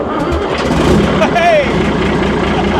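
A Chieftain tank's L60 engine cranks and catches, a loud rough mechanical churning that surges then settles into a rumble, with people talking over it.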